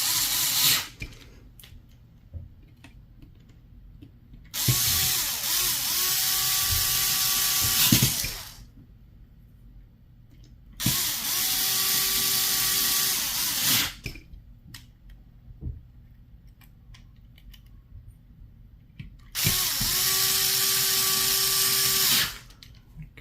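A power tool tightens parts on an Umarex HDB less lethal airgun, whirring in three steady bursts of a few seconds each, with quiet handling noises in the gaps.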